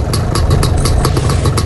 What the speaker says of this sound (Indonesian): Yamaha RX King.